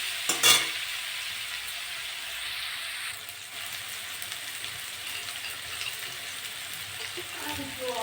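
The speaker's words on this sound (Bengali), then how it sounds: "ভালো করে ভাজবো আস্তে আস্তে।" Pumpkin slices with turmeric and salt frying in a pan, a steady sizzle broken by stirring scrapes and a short clatter near the start, with faint voices.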